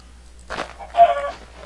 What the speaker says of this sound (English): kill the chicken,